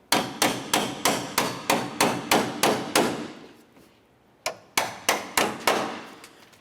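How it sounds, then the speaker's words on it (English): A hammer strikes the metal clips on a 2001–2005 Ford Explorer Sport Trac headlight assembly, giving a run of about ten sharp, evenly spaced, ringing blows. A short pause follows, then several more hits, loud and close. "Sometimes you just have to use a hammer."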